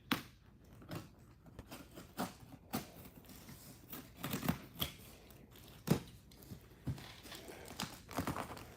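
A toy viewer box being cut open with a blade: a series of close, irregular scratchy clicks and crinkles of tape and cardboard, quiet and uneven in rhythm.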